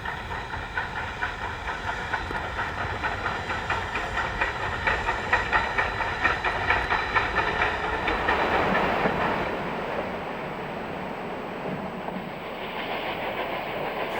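A steam locomotive on the Durango and Silverton Narrow Gauge Railroad in Colorado chuffs in a steady rapid rhythm with hissing steam and rolling clatter, building to a peak before easing into a smoother, quieter run.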